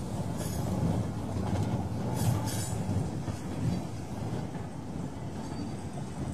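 A train rolls along the rails with a continuous low rumble and faint rhythmic clatter of wheels, steady and moderately loud, with no voices.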